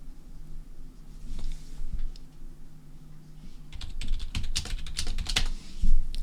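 Typing on a computer keyboard: a few sparse taps at first, then a dense burst of quick clicking keystrokes toward the end, close and moderately loud over a faint hum.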